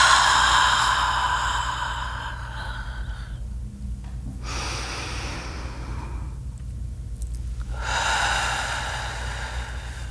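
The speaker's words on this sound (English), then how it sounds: "pay attention to that impulse to inhale and exhale." Slow, deep breaths drawn in and let out during a voice-strengthening exercise, each long airy inhale and exhale close and soft, alternating with brief quiet pauses over a low steady background hum.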